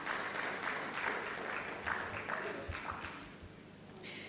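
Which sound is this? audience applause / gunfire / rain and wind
audience applause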